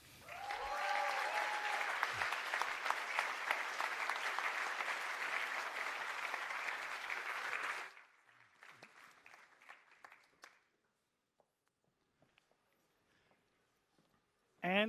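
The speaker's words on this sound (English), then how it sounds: "a big hand of applause to the Master Management class of 2023" A large audience applauds at a university graduation ceremony for the master's class, steady dense clapping for about eight seconds, then scattered fading claps and near silence before a voice returns at the end.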